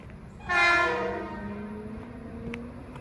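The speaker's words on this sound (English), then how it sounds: "we have a train coming." A Metro-North train approaches Tuckahoe station and sounds one strong horn blast, then its low rumble carries on steadily as it draws near.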